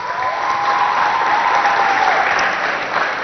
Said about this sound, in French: On applaudit pour notre sapin.